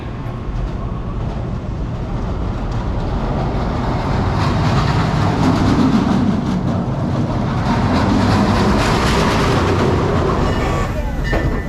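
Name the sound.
roller coaster train running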